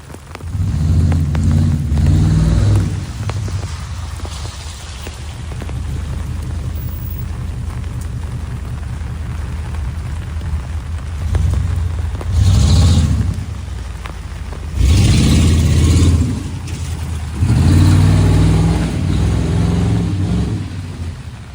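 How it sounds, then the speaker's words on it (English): A loud pickup truck rumbles past on a rainy city street, its deep engine roar rising and swelling in several loud bursts over steady traffic and rain noise. "Do people do something to modify their trucks to be loud like that, or are a lot of pickup trucks, older ones, just start getting loud like that?"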